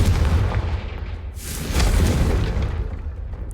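Fiery Confringo spell explosions in the video game Hogwarts Legacy on PS5, a dense booming roar with a heavy low rumble and a sharp burst rising midway, sustained loud throughout with no talk.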